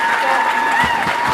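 Parents applaud their children at a secondary school graduation, a steady wash of clapping under a persistent tone and some voices, loud and close throughout.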